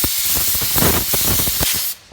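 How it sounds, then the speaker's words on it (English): A compressed air nozzle gives short, loud hissing blasts in close succession at a workbench during a battery reline, then cuts off abruptly. "I'll go over here to the air nozzle, and I just want to trim"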